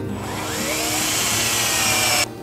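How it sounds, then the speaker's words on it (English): A power drill whirs steadily for about two seconds, its pitch rising slightly as it pre-drills a hole in a wooden tablesaw crosscut sled fence, then cuts off abruptly. "pre-drill a hole on either side of the fence so you can get things aligned"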